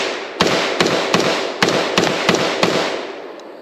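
An XM177E2 carbine fires eight sharp, loud shots outdoors at an uneven, roughly half-second pace, each crack trailing into a long echoing rumble.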